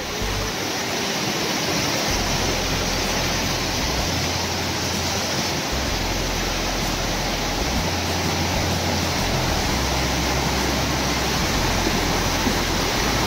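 Brahmani Dei waterfall in Deogarh pours continuously, a loud, dense, unbroken roar of rushing water heard up close, with low rumbles underneath and no talking.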